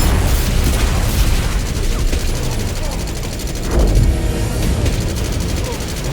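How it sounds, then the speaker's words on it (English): Missiles launch and explode in the video game 007 First Light, with dense rumbling booms and rapid bursts layered over a loud, continuous battle din, some speech mixed in. "Missiles armed and unloading."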